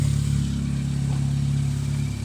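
Car engine running with no exhaust fitted, a loud, raw, rattling low drone that holds steady and close for a couple of seconds.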